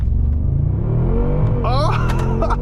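A 2025 Mercedes G63 AMG V8 accelerates at full throttle: deep, loud rumbling roar climbing steadily in pitch, with a rising whine as speed builds, and a voice exclaiming over it near the end.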